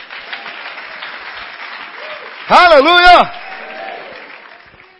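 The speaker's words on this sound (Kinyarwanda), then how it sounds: "giha amashyi" Congregation applause breaks out in a church during a Kinyarwanda sermon, a short loud burst of clapping lasting under a second, set against a preacher's voice that keeps talking before and after.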